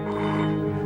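A telephone rings in a Hindi horror drama, giving one short, sustained electronic tone that is loud and clear with no talk over it.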